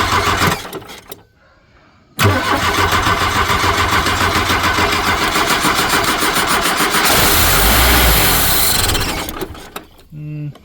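A forgotten 1983 K-Car wagon with a five-speed, sitting for 30 years, cranks briefly, pauses, then starts and runs with a loud rough idle and a rev before dying down, with voices nearby.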